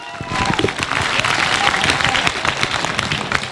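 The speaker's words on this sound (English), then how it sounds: "A round of applause for him, please." Audience applause and some cheering for comedian Saad Haroon at a stand-up comedy show at the Karachi Literature Festival, a dense, steady wash of clapping that holds loud throughout.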